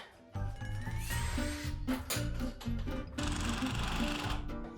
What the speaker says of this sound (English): I need to take those screws out from the top and redo those